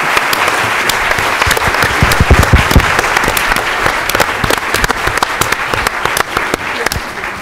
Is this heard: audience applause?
yes